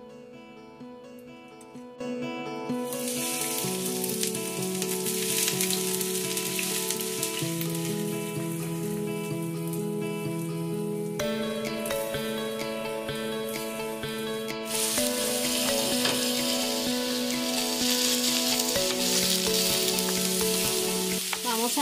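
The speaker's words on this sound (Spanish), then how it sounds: "en este recipiente o sartén vamos a sofreír la cebolla, el pimiento" Onion, bell pepper and meat sauté in a pan with a continuous bright sizzle, largely overlaid by prominent music that starts after a brief quiet opening and plays steadily throughout.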